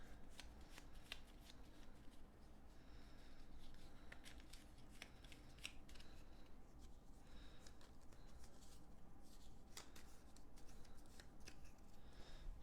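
Close, steady shuffling of Battlestar Galactica board game Destiny deck cards, a continuous papery rustle with frequent crisp snaps and flicks running for over twelve seconds without talk.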